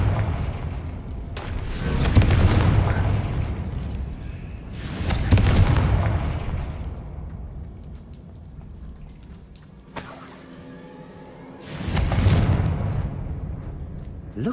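Confringo fire spells go off in Hogwarts Legacy as a series of four deep, rumbling blasts, each swelling and fading over a couple of seconds, loud and close with quieter gaps between.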